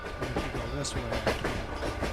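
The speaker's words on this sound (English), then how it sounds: "Train going by." Train passing by in Farming Simulator 22, a steady rumbling clatter of rail cars heard close, with faint game background blended in.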